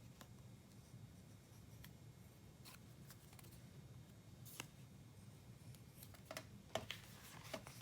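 Scissors cut through craft foam while handmade cards are being made, giving a few quiet, scattered snips and crisp clicks over a faint low background hum, with no talking.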